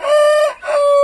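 A rooster crows once, loud and close, a bright drawn-out call with a brief break in the middle.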